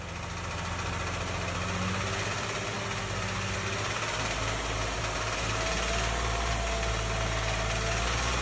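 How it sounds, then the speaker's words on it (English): A Lexus engine with a suspected rod bearing knock runs steadily with a low, heavy idle rumble and a faint rhythmic knocking pulse, revving gently near the microphone without talk. "after each time this engine is revved, there's a knocking sound"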